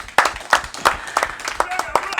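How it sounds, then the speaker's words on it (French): Fan club members in a studio audience clap in unison for a cultural show, producing about six sharp, evenly spaced claps in a steady rhythm. A voice is briefly heard toward the end. "Je vais leur demander de s'applaudir."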